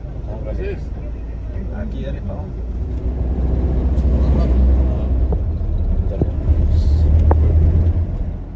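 A car engine rumbles low and steady, growing louder midway as the vehicle drives nearby, with people talking faintly over the drone.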